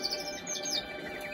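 A show bird, a small songbird being trained for an ACS exhibition, gives a quick run of high, thin chirps and tweets, fairly faint against a steady indoor background hiss.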